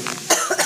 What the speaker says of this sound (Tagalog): Inuubo ko.